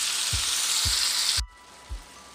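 Spice masala frying in oil for a paneer sabji hisses loudly for over a second with dull stirring knocks, then the sizzle cuts off abruptly, leaving a quiet background and one more soft knock.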